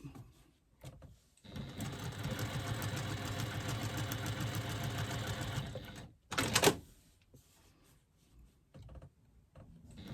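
A sewing machine stitches beside the folded seam of a fabric pouch, with a faint, steady mechanical whir for several seconds, a short burst after it, then quiet.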